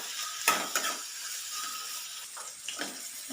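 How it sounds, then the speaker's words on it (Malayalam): Sliced onions fry in a pan for an onion curry, giving a steady close hiss and sizzle with several scraping stirs of a spoon across the pan. "അപ്പോൾ ഉള്ളിയൊക്കെ നല്ലവണ്ണം വഴന്ന് കിട്ടിയിട്ടുണ്ട്."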